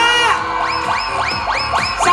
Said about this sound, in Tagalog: lakasan nyo ang cheer dahil mas malaki ang mahahakot ni Aling Lourdes